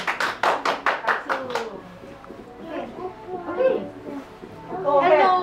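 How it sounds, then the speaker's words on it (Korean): A run of about eight quick, loud claps from children at a church service, followed by a voice and lively chatter from kids. "박수."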